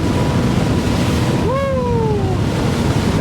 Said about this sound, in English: That crosswind is coming up and blowing us